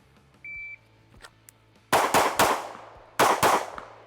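Rapid shots from a Kimber CDS9 Classic pistol, two close bursts of about three and two loud cracks, preceded by a short electronic beep and a quiet pause.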